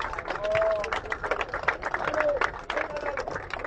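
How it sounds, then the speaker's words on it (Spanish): Young supporters applaud at an outdoor campaign rally in Plaza La Victoria, Los Fuertes, a fairly faint patter of scattered clapping mixed with crowd murmur and a few voices, rising and falling briefly. "un aplauso a los jóvenes siempre entusiastas"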